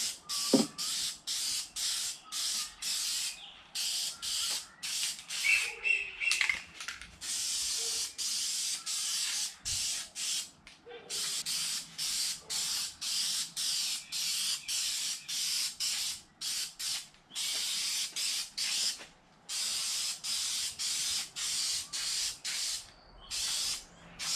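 Aerosol tint paint sprayed in repeated short bursts onto the lights of a Subaru WRX wagon, a steady rhythm of loud, close hissing pulses with brief pauses between them.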